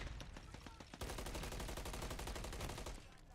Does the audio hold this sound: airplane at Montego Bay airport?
no